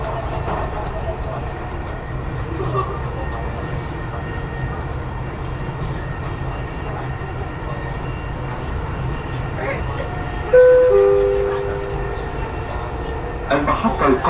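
Dubai Metro train running between GGICO and Emirates Towers stations, heard from inside the car: a steady low rumble and whir of the ride throughout, with a brief electronic tone near the end.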